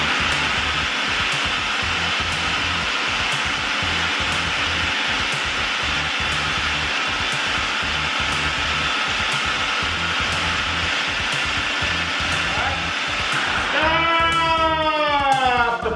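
Food processor running while salsa is made, a loud steady motor whir with a faint regular ticking throughout, winding down in a falling tone near the end.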